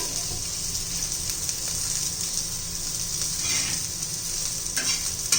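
A spoonful of cumin seeds sizzling in hot oil in a pan while making a spicy green chilli side dish, a steady bright crackle over low-flame cooking, close and fairly quiet.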